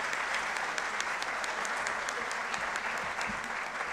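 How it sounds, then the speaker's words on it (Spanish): Audience applause following a lecture on the Templars' presence and crisis in Castilla y León, a steady dense clapping from a full hall that holds evenly for several seconds with no talk over it. "Vamos a dar un aplauso que sea muy bueno."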